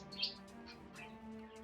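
Small birds chirp and tweet in the Wizard of Legend video game, a few high, bright calls near the start and then fainter ones over a steady low musical hum.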